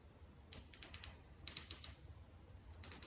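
The elevation turret of a Nutrek Blackiron 6-24x50 SFP IR rifle scope clicks crisply, close up, in three quick bursts of about five to six sharp detents each with short pauses between, and no talking.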